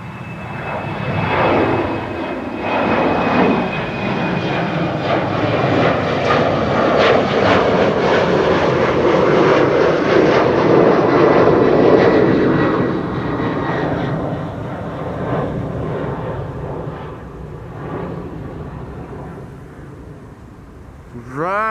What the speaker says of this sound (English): Right, Embraer 190.